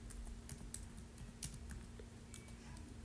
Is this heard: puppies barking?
no